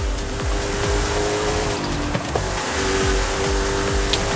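Race cars in Forza Horizon on the Goliath circuit roar with steady, loud engine drone, with tire noise and repeated rising revs as they speed through a corner, no talk over it.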